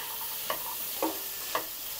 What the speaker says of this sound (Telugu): వీటన్నింటినీ మంచిగా కలుపుకోవాలి ఫ్రై అయ్యేంత వరకు